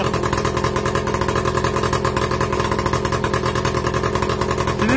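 An MBK 51 moped engine with an open exhaust runs close and loud, a dense rapid buzzing putter with clattery texture, holding a steady idle-like pace throughout with no speech.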